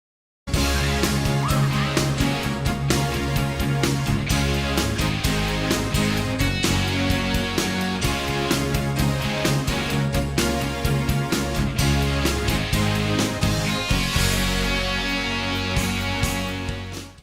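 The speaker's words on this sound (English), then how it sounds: "this is a guitar riff whose job is to support the keyboards, the synthesizers" Thin-toned 1980s AOR-style glam metal guitar riff backing loud, prominent synthesizer keyboards, played continuously in a steady rhythmic pattern at moderate loudness throughout.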